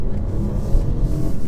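A 2022 BMW 118i three-cylinder engine pulls out of a junction at half throttle, a steady low rumbling drone heard from inside the car, loud and unbroken over a short stretch.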